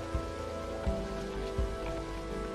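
Steady rain falls in the video game Rainswept, a constant dense patter with a few soft low thuds, heard alone with no voices.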